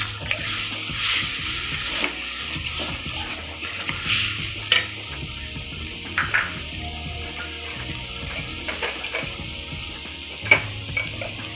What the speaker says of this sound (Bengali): এর মধ্যে চিংড়ি মাছটা দিয়ে দিলাম। সব মিলে একটু কষাই নিয়ে একটু জল দেবো।